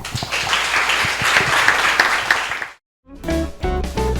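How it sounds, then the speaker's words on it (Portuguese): A church congregation applauds during a worship service, with a few seconds of lively clapping that stops abruptly, followed after a brief silence by music starting up. "Vamos agradecer a Jesus e dar uma salva de palmas a Ele."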